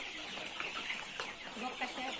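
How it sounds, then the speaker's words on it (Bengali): Sonali hens in a poultry farm room holding about 1400 birds, clucking continuously as a dense, close flock murmur, with faint voices in the background. "এখানে কতটি মুরগি আছে এই রুমে? মোট 1400 মুরগি আছে।"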